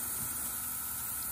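An airbrush sprays off-white and white ink onto Star Wars Stormtrooper models. It makes a steady, faint hiss close by, with no talk.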